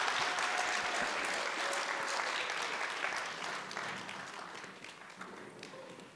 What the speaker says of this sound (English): can we give one more round of applause to the South Coast Chinese drum team for a